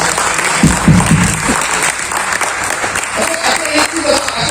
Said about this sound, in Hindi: मिर्जा जी के लिए ताली बजाइए